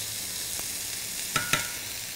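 Cumin goes into onions sizzling in a pan, a steady close frying hiss with two quick clinks of a spoon near the end.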